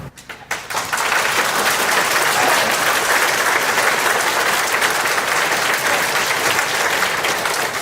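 Loud, sustained applause from an audience at a county board of commissioners meeting, rising quickly after a brief quiet start and continuing steadily to the end.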